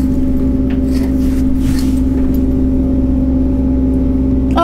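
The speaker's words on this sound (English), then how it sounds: "It's just a massive truck sitting there." A massive truck sits idling outside with its engine running, producing a steady low hum and drone that holds evenly throughout, heard from indoors at moderate loudness with no talk.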